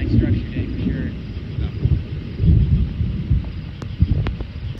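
A low, continuous rumble of distant thunder from a Michigan summer thunderstorm, mixed with wind buffeting the microphone outdoors, steady and fairly loud with a few small sharp knocks.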